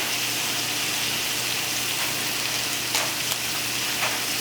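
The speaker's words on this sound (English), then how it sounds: "Got a good sizzle in my pan right now." Steady frying sizzle fills the clip, a dense crackling hiss from cauliflower in a hot pan, close and continuous with a few faint clinks.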